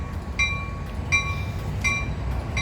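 A freight train pulls out of Fullerton, steady low rumble with repeated metallic clanks and squeaky tonal pings from the cars, fairly loud and close, no voices.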